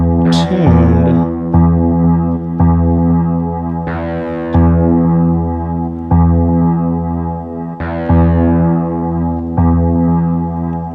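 Korg Wavestate synthesizer voicing a plucked, guitar-like tone, a steady sequence of loud sustained notes with sharp attacks every second or two, played alone with no talk.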